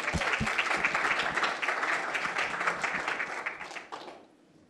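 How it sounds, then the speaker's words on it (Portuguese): An audience at a São Paulo coding bootcamp demo day claps for the final app presentation, a brief burst of mixed close and distant hand claps that fades away at the end. "Palmas."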